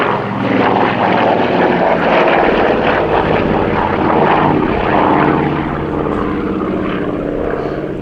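An Avro Anson or Lockheed 12A propeller plane drones loudly and steadily overhead at an air display at Old Warden, its engine roar rising and fading slightly as it passes.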